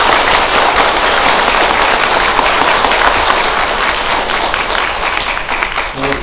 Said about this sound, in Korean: 격려 박수 한번 보내주세요